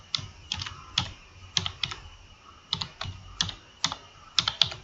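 Typing on a computer keyboard at a Python shell, with bursts of quick, crisp key clicks in an uneven rhythm, close and fairly quiet with no voices.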